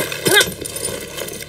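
A horse in the video game Far Cry 6 gives a short, fairly loud whinny with a rising and falling cry, followed by soft snorting and shuffling nearby.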